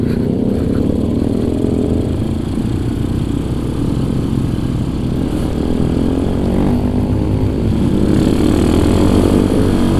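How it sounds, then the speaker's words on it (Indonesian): Motorcycles with loud racing exhausts rumble and rev nearby in a continuous, heavy engine drone that holds steady for about ten seconds with slight swells in pitch. "Semuanya pada gacor pakai knalpot racing"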